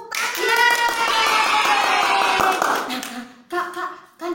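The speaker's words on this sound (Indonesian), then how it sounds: "Tepuk tangan." Children clap their hands during an Independence Day story session, a brisk burst of clapping mixed with cheerful voices and tonal sounds, dropping off before a brief pause.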